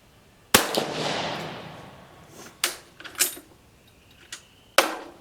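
Italian 1870/87/15 Vetterli rifle firing: one sharp, loud close shot with a long decaying echo outdoors, followed by metallic clicks of the action and another sharp report near the end.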